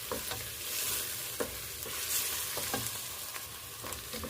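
Onion and peppers fry in a pan with a steady hissing sizzle, broken by occasional scrapes and taps of stirring, close and without talk.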